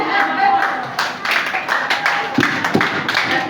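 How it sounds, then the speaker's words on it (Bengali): A group clapping at an outdoor event, uneven bursts of close handclaps mixed with crowd chatter and voices talking over them. "তালি।"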